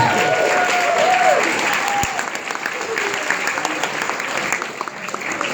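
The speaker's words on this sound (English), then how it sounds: "Let's hear it for everyone one more time." Wedding guests applaud after a best man's toast, a steady wash of clapping from a room full of people that stays loud, then thins slightly toward the end.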